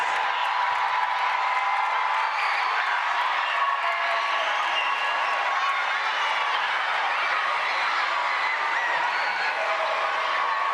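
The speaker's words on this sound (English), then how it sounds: "please give your student performers another round of applause" An audience at an elementary school music festival applauds and cheers for student performers, a dense, steady wash of clapping and crowd noise that holds at an even level from start to finish.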